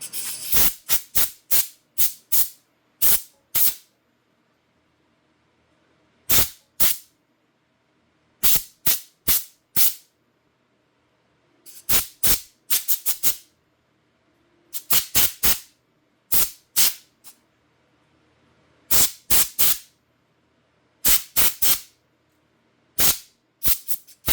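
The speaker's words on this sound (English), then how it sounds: "we could just try and blow out this little foam air filter" Short bursts of compressed air blow through a small foam air filter from an old curbside weed eater, coming in irregular clusters of sharp hissing puffs separated by silent gaps.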